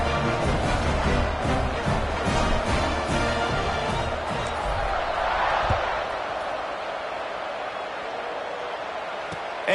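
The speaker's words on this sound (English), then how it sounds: "this crowd is buzzing after that last score" Stadium crowd at a Memphis vs Liberty football game buzzing after a score, a steady dense roar of many voices filling the space, with a commentator talking over it.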